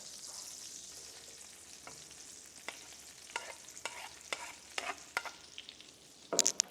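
Shallots sizzle in butter and oil in a pan over medium heat, a steady bright frying hiss broken by sharp spatters and stirring scrapes, growing busier toward the end.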